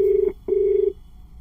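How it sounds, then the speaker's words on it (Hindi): A phone rings out on an unanswered call, two long electronic ring tones separated by a short gap, loud, close and clear, with no other sound around them. "ये देखो उधर जा रही है ईसा, फोन क्यों नहीं उठा रही है, फोन उठाओ"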